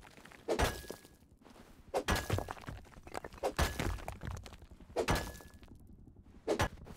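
Repeated sharp cracking impacts as sulfur rocks are mined in the video game Rust, striking at roughly one-and-a-half-second intervals, each a hard crunching hit followed by a short pause.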